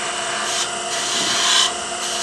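A Thompson detail gouge cuts wood on a lathe while a wine stopper is being turned, giving a steady close hissing rasp that swells and eases in a few long strokes.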